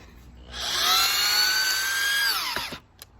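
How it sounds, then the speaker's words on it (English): A power drill whines at high pitch for about two seconds, winding down as the bit spins to a stop, close up, while driving self-drilling screws into scrap wood. "Make sure your drill's going the right way."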